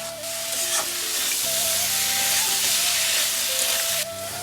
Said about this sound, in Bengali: আলু ফুলকপি দিয়ে মশলার সঙ্গে নাড়াচাড়া করে দিই।